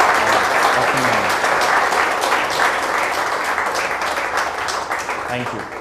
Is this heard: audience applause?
yes